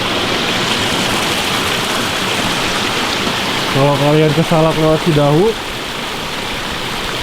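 A mountain stream babbles steadily on Mount Salak near the Cidahu route, a dense, close, continuous rush of water, with a person briefly speaking over it.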